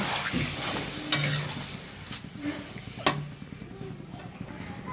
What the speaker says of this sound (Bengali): আলুকে আমি কষাই নিচ্ছি টমেটো দিয়ে দিলাম